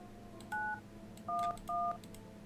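Three distinct touch-tone beeps from dialing a phone in the video game No, I'm Not a Human, each short and clean, evenly spaced over quiet room tone.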